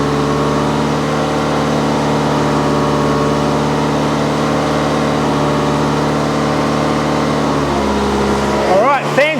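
Ferrari engine fitted in an Alfa Romeo 105 idling high at about 2200 rpm, a steady humming drone with a faint blip near the end.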